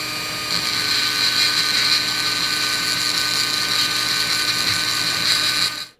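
A Dremel rotary tool with a 116 grit bit polishes a rock, whining at a steady high pitch without a break for about six seconds before cutting off abruptly.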